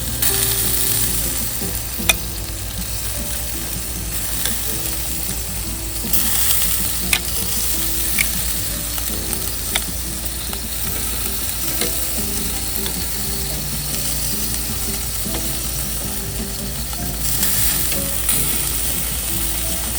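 Chicken thighs glazed with Sweet Baby Ray's sauce sizzle steadily on a Big Green Egg grill, with occasional metallic clicks and taps from tongs or the grate as pieces are turned.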